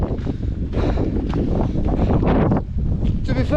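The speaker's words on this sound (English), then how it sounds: "I'm struggling to walk against the wind at this point. How strong it is." Strong wind roars continuously across the microphone on a rainy, exposed walking route, a steady heavy buffeting rush with brief surges and no pause throughout.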